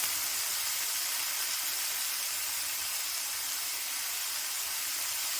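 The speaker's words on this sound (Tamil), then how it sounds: "கருணக்கிழங்கு போட்டுக்கிறோம். நல்லா எண்ணெயிலே போட்டு வச்சுருங்க." Pieces of elephant foot yam fry in hot oil for a tamarind curry, making a continuous, bright, hissing sizzle that stays level and close throughout, with no voices.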